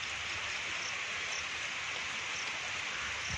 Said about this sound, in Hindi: बहुत तेज बारिश आ रही है आज सुबह से ही